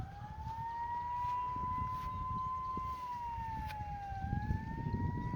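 An emergency vehicle siren, ambulance or police, wails from a distance in a slow, steady rising and falling tone over low rumbling outdoor background noise.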